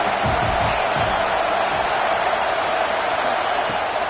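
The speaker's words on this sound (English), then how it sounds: "This crowd trying to make life miserable for this offense." A football stadium crowd roars steadily throughout, a dense, constant wash of fan noise with no clear peaks or pauses, loud and close.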